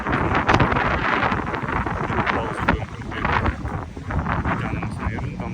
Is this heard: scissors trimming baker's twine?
no